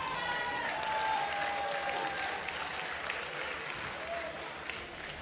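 A crowd claps together at the YCS Birmingham Yu-Gi-Oh tournament during a Top 4 match, with sustained, dense applause that stays loud before tapering slightly toward the end.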